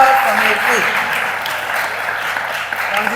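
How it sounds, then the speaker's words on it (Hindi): Children clapping together in a Gurukul classroom in Karanja, a steady patter of many small hands continuing for a few seconds with a brief adult voice at the start. "ताली बजाइए"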